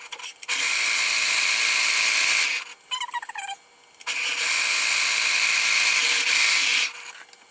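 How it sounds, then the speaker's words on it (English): A sewing machine zigzag stitches the freshly sewn fabric edges of sleep shorts, its motor whirring loudly in two long continuous runs separated by a brief pause with a few small clicks. "I'm just going to zigzag these edges that I just sewed"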